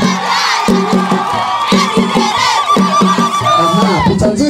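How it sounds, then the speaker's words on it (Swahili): A crowd ululates with long, wavering high trills and shrill whistles over steady drumbeats and shouting at a school celebration dance, the din loud and close throughout. "mapepi na vigelegele."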